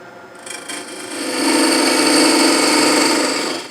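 A parting tool bites into a spinning palo santo tenon on a wood lathe while a box is rough-turned, giving a loud, close, rasping scrape that swells and holds steady before easing off.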